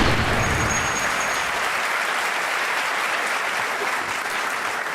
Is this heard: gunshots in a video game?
no